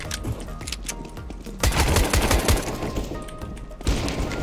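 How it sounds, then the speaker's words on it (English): Gunfire in Counter-Strike: Global Offensive: several quick, sharp shots crackle in bursts, loud and close, with a sustained rattling volley in the middle and another shot near the end. "Couple of warning shots."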